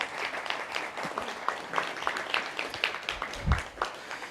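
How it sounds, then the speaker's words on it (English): A room full of people applauds at an awards ceremony, a dense patter of many hands clapping at a moderate distance, steady throughout. "would you just join me in a quick round of applause for them"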